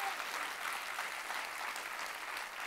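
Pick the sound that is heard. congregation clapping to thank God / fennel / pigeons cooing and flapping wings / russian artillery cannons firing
congregation clapping to thank God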